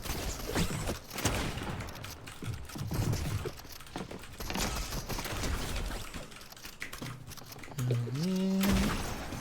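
Gunfire in Fortnite, heard as scattered bursts of shots and sharp cracks amid busy game noise, with a rising synthetic tone near the end.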